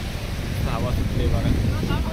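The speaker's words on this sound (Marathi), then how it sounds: "हवा सुटली बघा, मजा येईल इकडे।" Steady wind blowing at Kihim beach in Alibag, a broad, continuous rush with low rumble, with a voice talking over it throughout.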